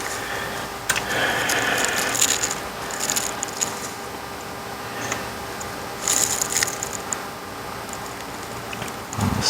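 Small plastic gauge bulbs snapping into place in a Chevy SSR instrument cluster: a handful of sharp, close clicks scattered among quiet handling noise, with no voices.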